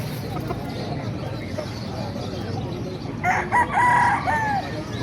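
Roosters crow in a couple of loud, drawn-out calls near the end, rising out of a crowded chicken market in Bocaue, Bulacan, with background chatter and bustle throughout.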